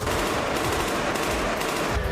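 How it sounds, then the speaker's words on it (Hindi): Israeli soldiers fire rapidly inside a ruined building in southern Gaza, a dense, continuous rattle of gunfire that stays loud and unbroken throughout. "अंदर घुसने से पहले गोलाबारी की"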